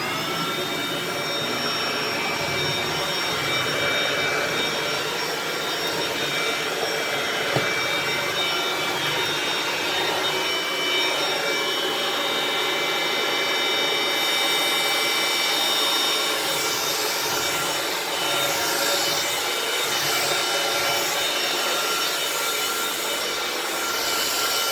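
A Shark Navigator Lift-Away Zero-M (ZU560) upright vacuum cleaner runs on floors, giving a loud, continuous motor whine and airflow roar that stays steady throughout with no pauses.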